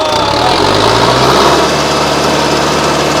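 A new Mahindra Novo 605 PS 4x4 tractor engine runs loud and close with a steady, even drone and no pauses.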